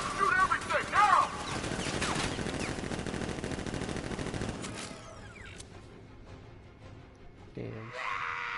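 Rapid automatic gunfire from guards in the video game Batman: Arkham Knight, a dense sustained burst of shots with grunts and shouted voices, then quieter mechanical game sounds after it stops.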